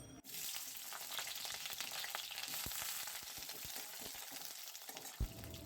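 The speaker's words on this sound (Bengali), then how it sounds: "প্রথমে আমি এখানে এই তেলের মধ্যে বেগুনগুলোকে হালকা করে একটু ভেজে নেবো" Eggplant pieces fry lightly in oil for a winter vegetable dish, a faint, even sizzle with scattered soft pops and a single louder knock near the end, heard alone without speech.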